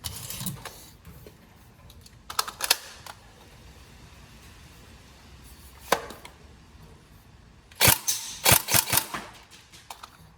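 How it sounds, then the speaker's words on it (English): An upgraded Tokyo Marui SCAR-L next-generation recoil shock airsoft rifle fires rounds downrange: a couple of early sharp shots, a lone crack midway, then a quick burst of several close snappy shots near the end. "we're just going to obviously put a bunch of rounds down range just to make sure everything's all good to go and working"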